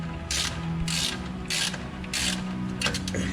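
A ratchet wrench loosens 13mm bolts from the anti-skid brake module bracket on a Corvette, giving several short, close ratcheting bursts in an even rhythm with no talk.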